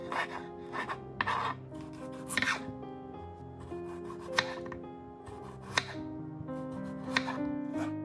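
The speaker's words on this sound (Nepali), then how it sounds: "हरियो खुर्सानी पनि काट्नुहोस्।" A knife chops green chillies on a cutting board in a home kitchen, giving sharp, close knocks at an irregular pace over a steady low background hum, with no talking.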